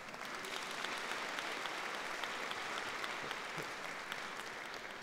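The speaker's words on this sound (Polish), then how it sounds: "Proszę sobie dać gromkie brawa." An audience at a Polish parish church concert gives sustained, even applause, a soft but dense patter of many hands clapping with no voices over it.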